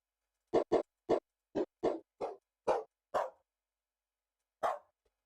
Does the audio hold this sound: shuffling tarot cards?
no